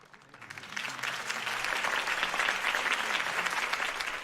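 In Batman: The Telltale Series, a crowd applauds a campaign speech, the clapping rising quickly from quiet into a steady, full wash of applause that holds to the end.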